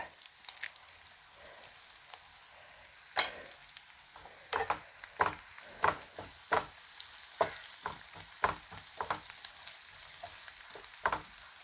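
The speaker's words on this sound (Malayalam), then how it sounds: "നമ്മുടെ ചെറിയുള്ളിയും വറ്റൽമുളകും കറിവേപ്പിലയൊക്കെ നല്ലതായിട്ട് മൂത്തിട്ടുണ്ട്" Shallots, dried red chillies and curry leaves crackling in oil in a pan used for fish frying: a soft background sizzle broken by a dozen sharp spitting pops at irregular intervals, close and fairly loud, with no speech.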